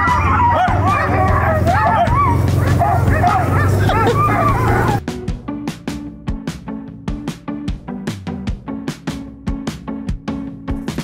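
Alaskan sled dogs barking, first a dense chorus of many excited dogs yipping and howling together, then individual loud barks repeating in a rapid, regular rhythm close by.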